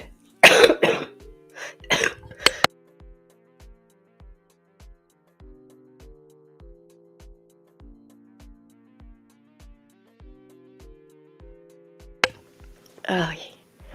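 A few harsh, close coughs come in short bursts, then a long pause with soft rhythmic ticking and a faint tone before one more cough.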